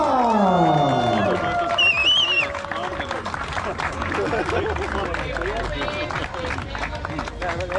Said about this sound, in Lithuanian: gausiausiais aplodismentais pasitikite nugalėtojai Renault kombinacija Lietuva